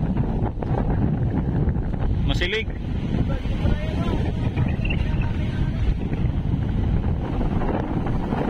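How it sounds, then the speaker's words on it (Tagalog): Strong wind buffets the microphone in a steady low roar, with large whitecapped waves surging beneath on the Pacific Ocean and brief speech partway through. "Grabe pa rin yung alon mga kabising, malakas, namumuti pa rin sa mahangin."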